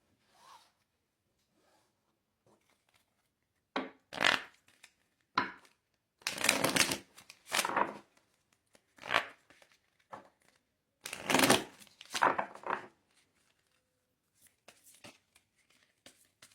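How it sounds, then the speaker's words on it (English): A deck of tarot cards being given a light shuffle, with several separate bursts of riffling and sliding card noise spaced out over the clip, close and moderately loud, with quiet pauses between them. "I'm going to do a slight shuffle on screen"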